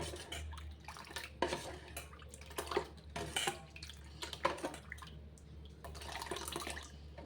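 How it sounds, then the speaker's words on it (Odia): A spoon stirs thin rice flour dosa batter with onion and salt in a bowl, making irregular wet slaps and clinks at a close, fairly quiet level with no talk. "ଭଲ ଭାବରେ ଗୋଳାଇ ଗୋଟେ ପତଳା ବ୍ୟାଟର ବନେଇ ନେବା"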